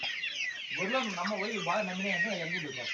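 Sonali chickens cluck steadily at close range, a busy overlapping chorus of short, rising and falling calls with no talking.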